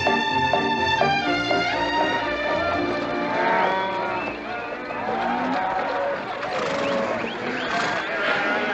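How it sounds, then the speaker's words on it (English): Cattle riding in the back of a vehicle in a 1963 Western low repeatedly, drawn-out moos overlapping one another over a rumbling background. "You got cattle in the back, boss."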